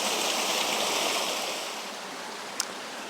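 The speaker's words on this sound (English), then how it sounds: "Behind me here is Junction Falls" Junction Falls, a waterfall on the South Lawson Waterfall Walk, gives a steady, broad rush of falling water close by, constant throughout with a slight easing midway and one brief sharp click near the end, no voices.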